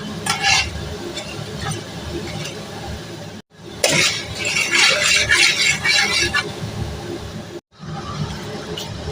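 Urad dal and chana dal roast in a pan for lemon pulihora, crisp rattling and stirring scrapes over a soft sizzle, close by, with two abrupt brief breaks.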